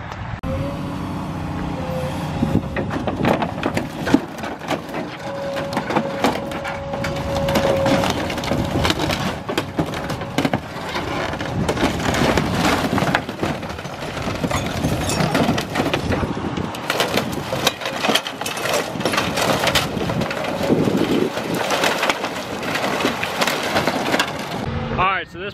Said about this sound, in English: I know it's loud right now, but we're taking this camper apart.